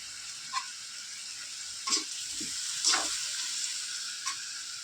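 Chicken sautéing in a pan at home, a steady close sizzle with a few brief stirring scrapes and clinks over it.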